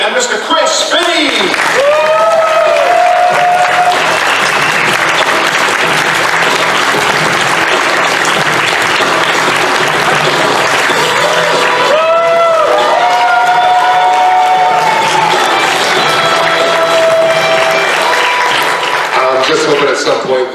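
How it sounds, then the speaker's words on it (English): A large convention crowd at TFNation roars with loud, sustained applause and cheering for voice actors Neil Kaplan, Evan Michael Lee and Chris Finney, with whoops and shouts rising over the clapping. "please give a massive round of applause to Neil Kaplan, Evan Michael Lee, and Mr. Chris Finney!"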